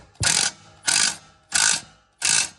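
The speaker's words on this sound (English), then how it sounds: "I'm going to tighten my up pipe clamp now, because that's the most crucial part of the whole deal" A 3/8-inch impact gun tightens the turbo up-pipe clamp on a 6.0 Powerstroke diesel, firing four loud, evenly spaced mechanical bursts of hammering at close range with short pauses between them.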